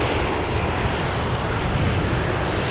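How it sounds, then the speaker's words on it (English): A Dash 8 turboprop airliner at Aberdeen Airport, a loud, steady broadband engine roar with deep low rumble, close by and filling the whole stretch without any voices. "Got a dash 8 for you."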